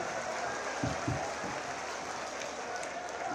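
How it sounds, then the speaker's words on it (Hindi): Audience at a Prayagraj Maha Kumbh gathering honouring sanitation and health workers applauds to greet the Chief Minister, a steady wash of clapping from a crowd throughout, fairly even in level with a few low thumps. "बहुत जोरदार तालियों से आप सब उनका अभिवादन करें।"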